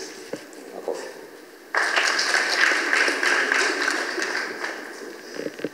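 An audience bursts into sustained applause partway through, after a quieter stretch, during a speech about religious leaders staying out of politics.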